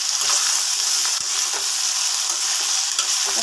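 Taro stolons and small fish fry loudly in a pan with a bright, hissing sizzle, while a spatula stirs through them with occasional soft scrapes and knocks.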